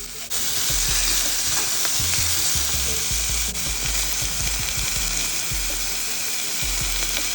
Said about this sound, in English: And then we'll add the onions to it because the onions doesn't take that long to become translucent.